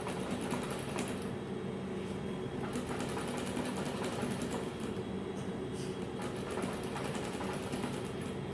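A sewing machine stitches fabric for a flared dress in a steady, continuous mechanical whir, close and even in level throughout, with no talking.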